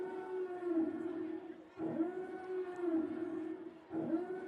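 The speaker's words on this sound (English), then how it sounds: "The siren sounds here in Old Bridge." A wailing siren sounds at a high school football game in Old Bridge, with a steady sustained tone that swells and dips in repeated cycles over a murmuring crowd.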